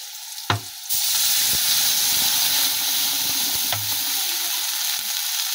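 Water poured into frying mango chutney in a hot pan, a sudden burst of loud hissing sizzle after a couple of clinks that then holds steady, broken by a scrape or two of stirring.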